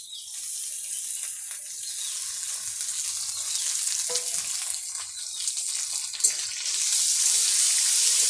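Chopped carrot and capsicum frying in a pan for vegetable fried rice: a bright, continuous sizzle of hot oil, close and steady, with occasional scrape-like stirring touches and no talking.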